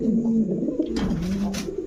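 Deep, throaty cooing of a male Indigo pigeon close by, a steady rolling drone with brief rustling bursts over it.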